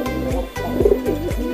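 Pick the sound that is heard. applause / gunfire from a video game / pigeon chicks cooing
pigeon chicks cooing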